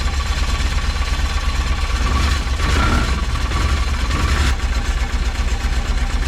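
A 2005 Polaris Ranger 700xp engine idles steadily after starting, a continuous mid-pitched rumble with a slight uneven throb, loud and close with no talking.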